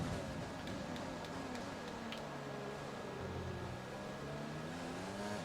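Race car engine at high revs, holding a steady loud drone with a brief lift and an early upshift, wavering pitch lines and constant mechanical whir throughout, no talk.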